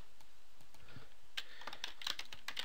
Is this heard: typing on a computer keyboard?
yes